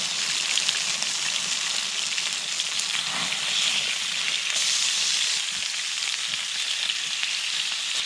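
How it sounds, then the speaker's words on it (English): Belly pork crisps in a pan over a campsite cookout in a bluebell woodland, giving a loud, steady, close sizzle that holds evenly from start to finish with no talking. "Now the belly pork is properly cooked, so all we're doing is we're toasting the outside to get it nice and crispy."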